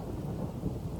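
Low rumbling thunder rolls beneath steady rain during a storm over a rural weekend farm plot, a brief continuous deep roar with no voices.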